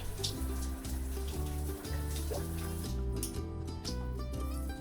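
A new shower head releases water in a gentle, rain-like fall, a steady close patter that continues throughout, with a low rhythmic hum beneath it.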